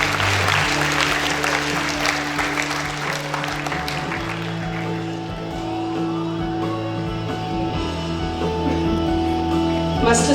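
Sustained applause from an audience at a school felicitation day, a dense steady wash of clapping lasting the whole stretch, with a constant hum underneath and some voices mixed in.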